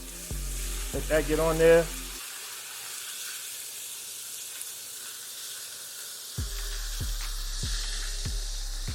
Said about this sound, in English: We're just gonna add the beef first because beef takes longer to cook, or steak.